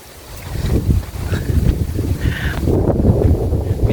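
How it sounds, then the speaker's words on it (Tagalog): Strong wind gusts across the Mt. Balinsayaw summit, buffeting the microphone with a heavy, low, continuous roar that swells and dips. "Lakas ng hangin."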